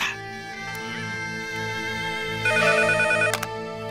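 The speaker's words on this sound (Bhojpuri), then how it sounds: "घंटी जाता।" A telephone rings in a repeating electronic bell pattern over steady background music, the ringing growing louder and denser toward the end, with no voices.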